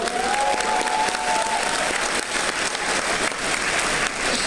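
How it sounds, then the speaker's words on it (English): A theatre audience at a Jordan Peterson 12 Rules for Life lecture at The Masonic in San Francisco breaks into sustained, dense applause, loud and even throughout, with a brief whistle early on. "I like that the applause took a little while."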